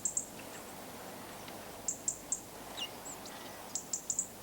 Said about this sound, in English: Robins have a scolding call.